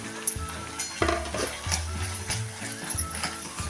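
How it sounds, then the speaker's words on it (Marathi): Ginger, garlic, coriander and coconut paste sautéing in hot oil in a pan, with a steady close sizzle and several thumps and scrapes from stirring. "आता त्यामध्ये टाकूया आलं लसूण कोथिंबीर खोबरं हे बारीक करून घेतलेलं हे पण आपण थोडा वेळ परतून घेऊया"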